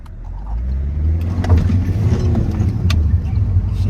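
Alfa Romeo Giulietta turbo car accelerating after repair of its boost hoses, a steady loud low engine drone with rising harmonic bands across about four seconds, close to the microphone.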